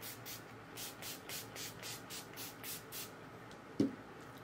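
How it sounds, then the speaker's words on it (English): A hydrating makeup setting spray mists onto a face in a quick rhythmic run of about a dozen soft, close spritzes, followed by a single dull thump. "I am going to use this Refresh Hydrating Setting Spray from Kokie Cosmetics"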